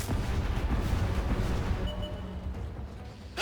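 Heavy booming artillery blasts rumble and overlap in a loud barrage, then ease into a quieter, ringing tail near the end.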